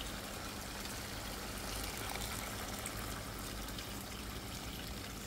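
Water pours in a continuous, quiet, even stream into a pot of pea stew with smoked sausages and bacon, with no talking.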